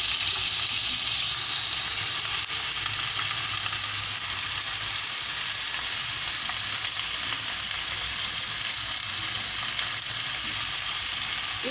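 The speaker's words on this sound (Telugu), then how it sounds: "ఆయిల్ వేడెక్కిన తర్వాత చిలకడ దుంపలు వేసామండి." Sweet potato pieces frying in about two tablespoons of hot oil in a pan, a steady, loud, continuous sizzle that holds evenly throughout with no talk.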